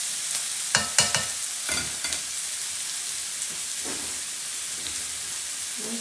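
Onion frying in hot vegetable oil, a steady bright sizzle with a few stirring scrapes near the start, close and continuous.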